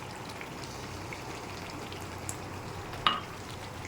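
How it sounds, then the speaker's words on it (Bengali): Mango pickle cooking in a pan gives a steady soft sizzle after vinegar is poured in, with one sharp brief crackle near the end. "এখন ভিনেগার দিয়ে দিলাম"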